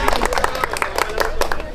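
Clapping and cheering from a crowd of employees at a company Christmas party, with rhythmic bursts of applause mixed with lively chatter and voices close by.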